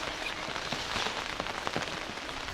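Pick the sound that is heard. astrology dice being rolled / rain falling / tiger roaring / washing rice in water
rain falling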